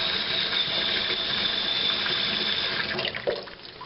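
Water runs steadily from an opened faucet with the main supply valve turned back on, a constant rushing hiss heard close up and on its own, with a slight sputter near the end.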